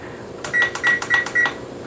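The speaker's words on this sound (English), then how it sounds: "I'm going to set my timer for 4 minutes" A rapid series of four or five short electronic beeps in quick succession, like buttons being pressed on a kitchen timer, close and clear.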